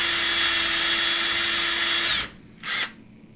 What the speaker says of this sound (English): I'm going to go ahead and just finish drilling those all the way through